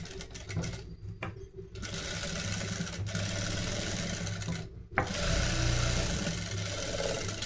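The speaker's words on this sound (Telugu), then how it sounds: "అదే థ్రెడ్ ప్రక్కన మళ్ళీ కుట్టు వేసుకుంటూ పోవాలి మనం" A sewing machine stitching along a thread line on blouse fabric runs in steady close whirring bursts, pausing briefly twice before resuming, with no speech.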